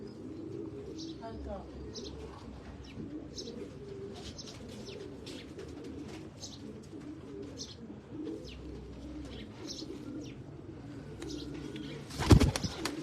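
Breeder pigeons at a loft in Faisalabad coo steadily in a low, murmuring chorus close by, with chirps and a brief burst of wing flapping near the end, while someone talks intermittently over them.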